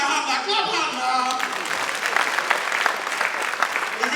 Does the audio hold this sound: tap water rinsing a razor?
no